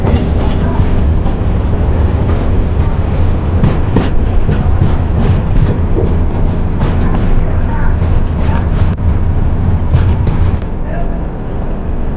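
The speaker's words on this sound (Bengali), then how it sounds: "ইচ্ছাপুর স্টেশন ছেড়ে দিয়েছে ট্রেন" The Howrah–Chennai Mail pulling out of Ichchhapuram station, a loud steady rumble with rhythmic clickety-clack of wheels over rail joints, heard from inside the moving train.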